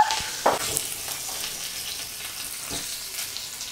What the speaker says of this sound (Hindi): मैं रायते का तड़का रेडी कर रही हूँ.